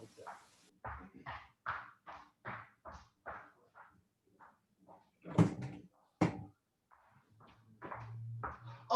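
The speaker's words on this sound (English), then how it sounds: "I gotta make sure my door is unlocked." A door being unlocked and opened in a room, heard as a few sharp knocks and clunks in the middle, between bursts of nearby speech.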